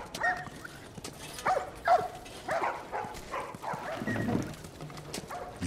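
In The Last of Us video game, a puppy barks and yips repeatedly in short, uneven bursts, fairly close and clear, with a few whimpers between barks and quiet game ambience behind.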